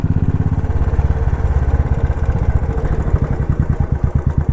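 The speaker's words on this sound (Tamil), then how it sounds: "இன்ஜின் பிரேக்கிங் தான் பெஸ்ட்டு பிரேக்கிங் ஹில்ஸில்" A motorcycle engine braking in gear on a downhill hill road, its rapid putter loud and close, pulsing steadily with slight clatter throughout, no talk.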